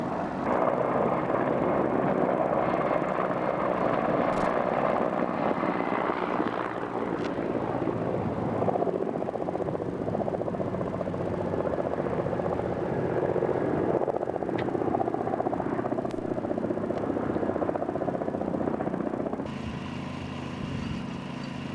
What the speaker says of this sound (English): That is a Helix helicopter. Russian helicopter.